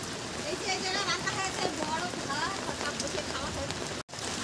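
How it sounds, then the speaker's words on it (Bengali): Continuous rain falls on an island in the Sundarbans, a dense steady patter and hiss that stays even throughout, heard up close with a brief dropout near the end. "ধারাবাহিকভাবে বৃষ্টি চলছে"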